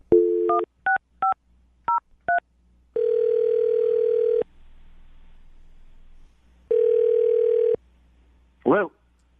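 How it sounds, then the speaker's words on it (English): Telephone dialing: a quick series of keypad tones, then a long dial tone, a quieter gap, another ringback-style tone, and a brief warbling chirp at the end. "I'm going to dial the phone number right now"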